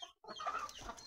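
Chickens cluck at a dairy farm where cows are milked by machine. A brief pause comes first, then a steady run of close, moderately loud clucking and fowl calls fills the rest of the moment.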